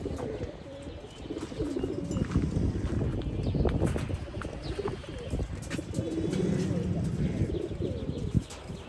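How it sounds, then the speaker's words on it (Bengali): Pigeons coo softly and repeatedly inside a loft of flying pigeons, with steady wind-like rustle and low background noise running throughout. "অসাধারণ একটা কবুতর।"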